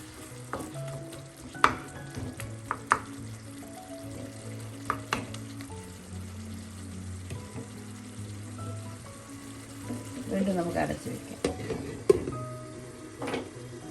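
Tomatoes cooking in a pan for a Kerala tomato pachadi, a quiet sizzle under scattered clinks and scraping strokes as they are stirred, with a short burst of louder stirring near the end.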